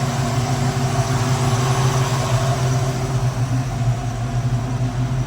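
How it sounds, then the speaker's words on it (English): A 1969 Pontiac Firebird engine idles steadily nearby, a low, even rumble with a faint hum that holds constant throughout, no revving and no voices. "As you can see, I have the car running right now."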